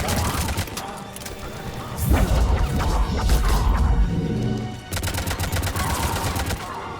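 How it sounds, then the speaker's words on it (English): Enemy gunfire in Mass Effect 3 Legendary Edition, sustained bursts of rapid shots near and loud, with crashing impacts and a heavy boom in the middle before the automatic fire resumes. "They're not firing on the pod though. They are firing on me."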